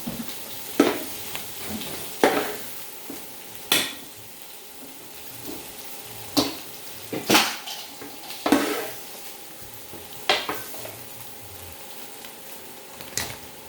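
Cabbage going into a pan of pancit bihon, with repeated sharp stirring and tossing scrapes over a steady, close frying sizzle.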